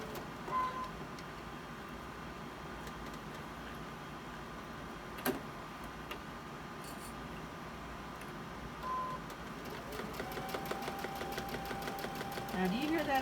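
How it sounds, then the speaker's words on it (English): A domestic sewing machine runs steadily with a faint repetitive clicking, and a voice talks quietly over it while fabric is fed through. "do you hear that sound my sewing machine's making? It's got like a clicking going on."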